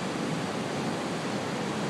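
Niagara Falls roars as a dense, continuous rush of falling water, loud and unbroken with no voices.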